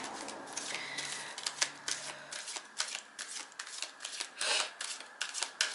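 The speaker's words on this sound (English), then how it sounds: "I'm actually going to just shuffle them carefully because they're so slippery." Slippery tarot cards are shuffled close up in soft, uneven bursts of riffling and sliding, with brief pauses between handfuls.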